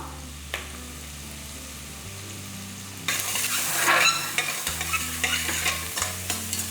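Onions and Kashmiri chilli sautéed in a pan, with a low hum giving way to a louder burst of sizzling and scraping stirs that continue at an uneven pace; close and fairly loud, no voices.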